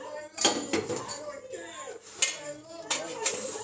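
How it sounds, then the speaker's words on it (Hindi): Dishes and steel utensils being washed in a home kitchen make repeated clinks, clatters and scrapes, moderately close, with someone talking over them. "ये फिर से बर्तन साफ कर रही है"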